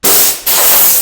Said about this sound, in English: We'll start off by blowing our cabinet off, getting the dust off of it.